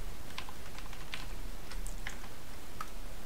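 Someone types ipconfig on a computer keyboard, a few separate light key clicks spaced unevenly over a steady background hiss, faint and close.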